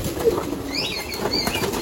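Pigeons, all hens, in a cage: brief soft wing flaps and light rustling close by against a steady background hum.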